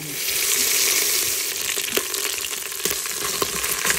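Paneer pieces frying in a pan, a loud continuous sizzle with bright hissing spitting close up, punctuated by a few sharp pops and stirring clicks toward the end, no talking.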